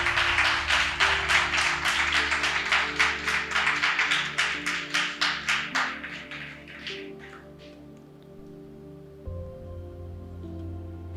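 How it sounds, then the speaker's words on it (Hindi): Applause from a lecture audience, a dense run of clapping that peaks early, then thins out and fades over several seconds into a quiet room hum. "अवतार के लिए ताली।"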